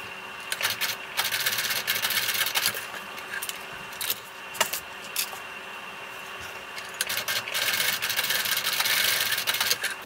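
A sewing machine runs in bursts of close, steady stitching as it bastes the straps of a fabric cell phone bag in place, with light clicks between the runs.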